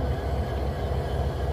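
Low, steady rumble of a Norfolk Southern train at a railyard, a continuous heavy drone with no breaks and no voices.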